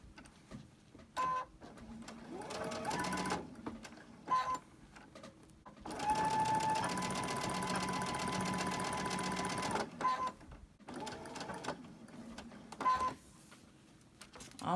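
A sewing machine straight stitching Christmas tree fabric, running in bursts of rapid mechanical whirring and needle clatter, the longest stretch several seconds, separated by short pauses and clicks, close and clear.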